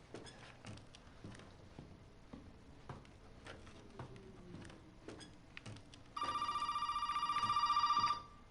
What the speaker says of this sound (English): And as always, the phone rings.